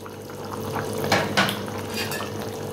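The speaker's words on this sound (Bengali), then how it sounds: "এখন ভেজে রাখা মাছগুলো দিয়ে দিলাম" Fried bata fish pieces go into a simmering pumpkin curry in a pan, making a short wet splash and clatter in the middle over a soft, continuous bubbling background.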